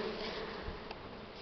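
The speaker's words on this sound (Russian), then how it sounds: "Вон, пошла пчелка." Honeybees buzz faintly at a hive holding five-day-old wax foundation, a soft steady drone with no voices.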